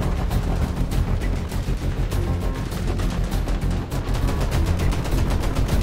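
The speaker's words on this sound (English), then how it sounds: "Some brrt action going on." Rapid cannon bursts from an A-10 Thunderbolt in the War Thunder game, a dense continuous roar of gunfire and explosions filling the whole stretch at high intensity.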